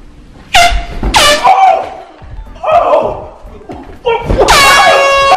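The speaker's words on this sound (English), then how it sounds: "I'm gonna place this air horn underneath the cushion, so when he sits down, he's gonna be in for a little surprise" A loud air horn blasts from under a couch cushion as someone sits on it, followed by startled shouting and laughter from people nearby.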